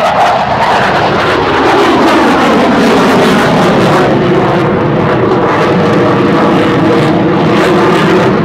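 An F-18 Hornet jet flies a slow-speed demonstration pass at an airshow, its engines a loud, continuous roar that sweeps and shifts in pitch as it passes close by.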